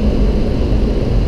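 Inside an airliner on approach to land at Dalaman, a loud steady roar of engines and rushing air fills the cabin without pause, with no voices.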